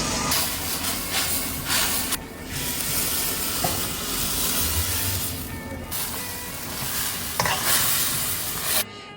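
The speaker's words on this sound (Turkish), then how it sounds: "şu an karıştırma işlemimize geçiyoruz" Continuous hissing and scraping of rice pilaf being stirred in a hot pan, steady and close, with occasional louder scrapes.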